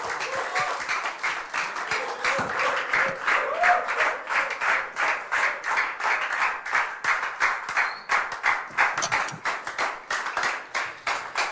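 A church congregation at a Tuesday Myanmar-language service claps hands along with a worship song, steady rhythmic claps repeating close and loud throughout, with singing voices faintly underneath.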